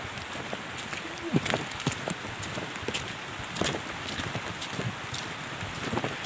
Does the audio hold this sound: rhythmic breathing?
no